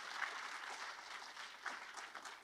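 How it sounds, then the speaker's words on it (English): An event audience applauds steadily at a civil rights history celebration, a dense, even patter of many hands at moderate distance that holds across the whole stretch without talk. "Let's give him a round of applause"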